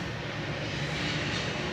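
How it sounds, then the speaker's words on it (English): A train rumbles past in the background of an outdoor spot, a steady broadband roar that stays even and moderately loud throughout with no talk over it. "You can hear a train going by behind me."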